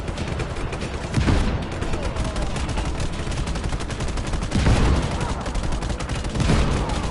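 A tank cannon firing in Just Cause 3, heavy booming blasts landing about three times amid continuous loud gunfire and explosion rumble.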